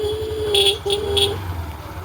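A scooter horn gives two or three short toots over the close, steady idle of its engine.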